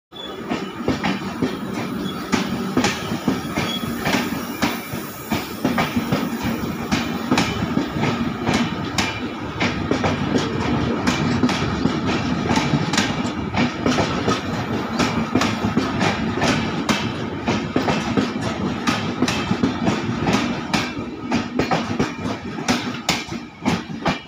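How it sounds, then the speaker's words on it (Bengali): An express train overtakes on the adjacent track, roaring close by with continuous rumbling and rapid clattering of wheels on rails, steady and loud throughout. "গৌরমালদায় বসিয়ে রেখে এখানে ওভারটেক করে নিল কলকাতা আগরতলা স্পেশাল"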